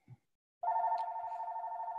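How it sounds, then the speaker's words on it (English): A telephone rings during an aerospace deans forum, entering after a short pause as a steady, sustained electronic tone that holds clearly and fairly loudly to the end, with no talk over it. "excuse me for the phone call there"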